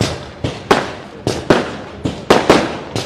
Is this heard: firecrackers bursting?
yes